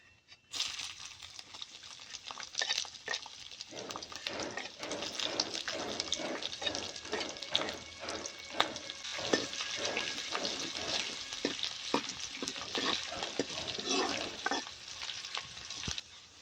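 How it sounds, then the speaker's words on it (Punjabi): Cumin seeds, chopped ginger, garlic and green chili fry in hot ghee for a vegetable khichdi, a close, continuous sizzle broken by repeated scraping stirs of a spoon in the pan. "ਘਿਓ ਹੋ ਗਿਆ ਗਰਮ ਤੇ ਹੁਣ ਆਪਾਂ ਅੱਧਾ ਚਮਚ ਪਾ ਲੈਨੇ ਆ ਜੀ ਜੀਰੇ ਦਾ ਤੇ ਜੀਰੇ ਨੂੰ ਤੜਕਾ ਲੈਣਗੇ"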